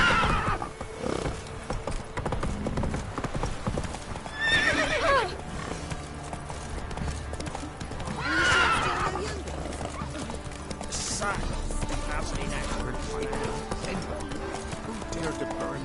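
Roach, the horse in The Witcher 3, gallops with a fast, continuous clip-clop of hooves, broken by two loud neighs and a later whinny, while a voice talks over the action.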